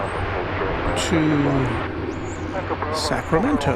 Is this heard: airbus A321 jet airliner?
yes